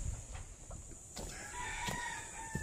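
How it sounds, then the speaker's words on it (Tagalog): A speckled rooster crows amid farmyard background noise, with a drawn-out call rising over a steady hiss and occasional clucks nearby. "Mayroong bulik na tandang."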